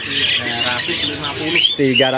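Caged birds at a kiosk in the Pramuka bird market squawk and chirp loudly and close by, a dense overlapping chorus of harsh calls with a voice talking underneath.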